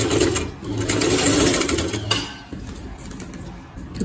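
A sewing machine stitches trouser fabric in a steady rapid whir for about two seconds, then slows and stops, leaving softer mechanical clicks and handling sounds close by.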